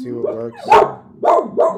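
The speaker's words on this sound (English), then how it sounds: "Sorry for the dogs." Dogs in the background let out several loud barks in quick bursts while a person talks nearby.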